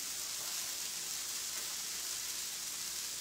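Okra sautés in a pan with a steady, even sizzle and soft hiss that holds at the same level throughout, with no talking.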